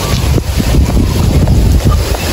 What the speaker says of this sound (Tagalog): Sugod ng hangin ang kabagyuhan.